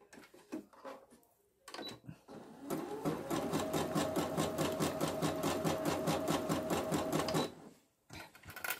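Close, loud sewing machine sewing a zigzag stitch on fabric for a fabric wallet, running in a rapid even pulse for several seconds between brief handling noises and quiet gaps.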